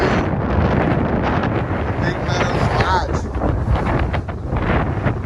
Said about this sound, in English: It's a cold, cold wind too.